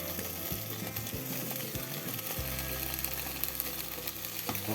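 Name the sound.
frying improvised burger ingredients in a pan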